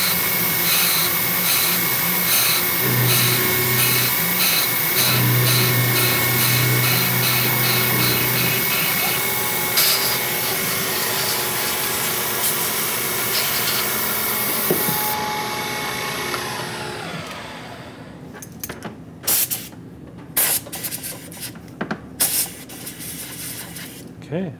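Milling machine cutting low-profile edge jaws, a loud continuous whine and hiss with tonal harmonics that winds down toward the end, leaving quieter clicks and handling noises.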